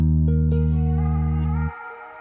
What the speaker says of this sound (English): Okay, so for the bell, just a delay, just a tape delay.